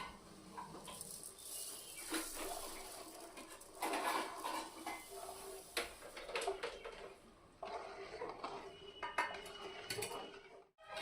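Semolina is stirred into boiling water with coconut in a metal pot for a kadabu breakfast dish, with repeated spoon scrapes, clinks and soft wet patter over several seconds at close range.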